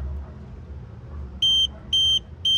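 A TOPTES PT199 combustible gas leak detector sounds its alarm: three loud, shrill electronic beeps in an even repeating pattern, close by, starting after a stretch of quiet room noise.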